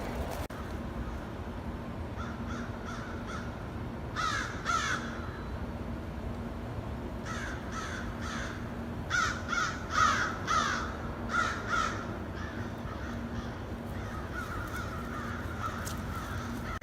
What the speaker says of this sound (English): there's a lot of crows out over here. And that call means that they found something to eat.